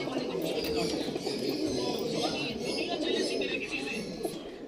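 A pair of red pigeons coo softly amid a busy loft, with steady low cooing and chatter mixed with other birds, and voices in the background throughout.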